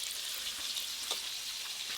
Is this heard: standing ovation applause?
no